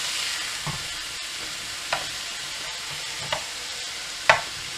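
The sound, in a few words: mince frying in a pan for chilli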